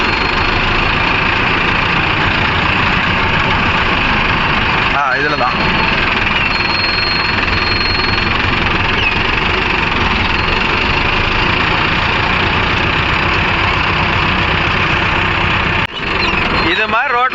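A Mahindra Arjun Novo 605 DI tractor engine runs steadily and loudly throughout on a road, a continuous rumbling drone with brief talk over it.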